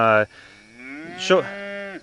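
Cattle in a grazing herd mooing loudly: one short low bellow, then a long drawn-out moo that rises and holds before ending abruptly, heard near and with no talk.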